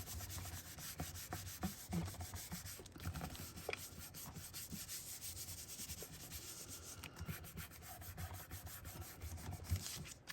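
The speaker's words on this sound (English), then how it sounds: "Turn that over and give that a little back rub." A paper quilt card being rubbed on its back, a faint, close, continuous scratchy rubbing with small irregular strokes that lasts throughout.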